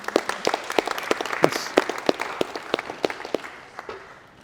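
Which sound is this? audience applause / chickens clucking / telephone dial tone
audience applause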